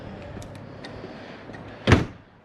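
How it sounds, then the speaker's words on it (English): Shop door unlocked and opened: a few light clicks and rattles of the lock, then one louder short clunk as the door opens, close by in a quiet room. "Unlock this door."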